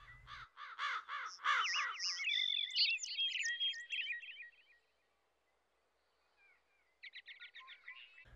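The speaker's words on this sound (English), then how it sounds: "you can even hear the birds chirping, the crows calling" Crows caw loudly and close for several seconds while smaller birds chirp, followed by a quiet gap and then a second run of chirping near the end, outdoors in the morning.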